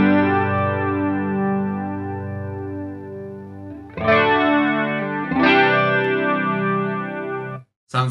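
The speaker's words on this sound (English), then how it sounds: "Sounds like a nice flanger." Electric guitar chords ring through a Keeley Dark Side pedal on a flanger setting into an amp's effects loop, with a sweeping, whooshing swirl on each sustained strum, three chords fading into a brief silence.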